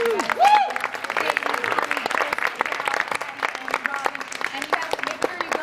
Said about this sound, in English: Give them a round of applause, you guys.